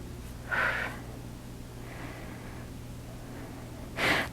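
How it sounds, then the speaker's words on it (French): Deep breaths taken during a stretching exercise session for improving walking: a sharp audible inhale near the start, a softer long exhale midway, and another strong breath at the end, close to the microphone in a quiet room. "Prends des bonnes respirations."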